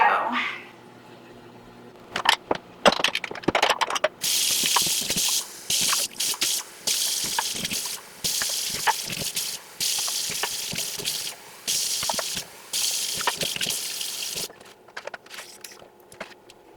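Fresh water pours and splashes into trays of coleus cuttings, arriving in repeated bursts of gushing with short pauses between them and no talking.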